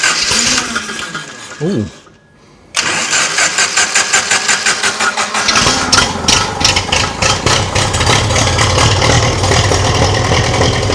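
A Ferguson TEA35 tractor engine cranks briefly, falls silent, then catches and settles into a loud, close, steady chugging idle; a voice briefly exclaims during the start.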